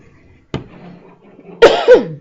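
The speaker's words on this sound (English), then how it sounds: "My apologies for the cough." A woman coughs once sharply, then clears her throat with a short harsher cough-like burst about a second later, close and loud in a quiet room.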